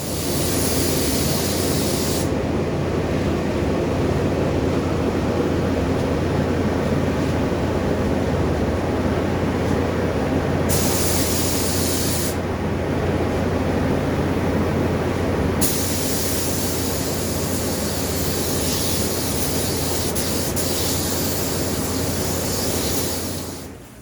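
A spray gun lays down Bullet Liner Magnum truck bed liner top coat in a spray booth, covering the tailgate, sides and floor. It gives a loud, steady, continuous hiss with slight shifts in tone and no talking.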